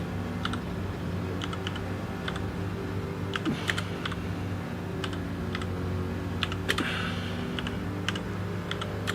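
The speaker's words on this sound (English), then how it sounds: "I know it sounds like I'm typing like a 4-year-old child, but it's because my keyboard's off at an angle" Computer keyboard typed on at an awkward angle, slow irregular clusters of crisp keystrokes with pauses between them, close and fairly quiet over a low steady background hum.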